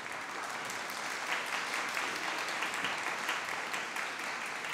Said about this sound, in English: give a big round of applause to all those who have supported you